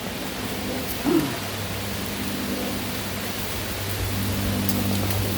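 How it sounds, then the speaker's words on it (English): Loud wind blasts an outdoor microphone as a continuous heavy rushing roar with low rumble, steady throughout with a brief gust thump, and no other clear sounds. "sorry about the wind, I know it's loud."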